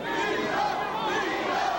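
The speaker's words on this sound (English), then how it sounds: "Crowd in the background now chanting, Vito, Vito" Boxing arena crowd at a 1979 Hagler vs Antuofermo fight chanting a fighter's name, a continuous loud massed roar of voices with rhythmic swells, no single speaker.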